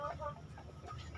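Chickens and roosters at a poultry farm, faint scattered clucking with low background murmur.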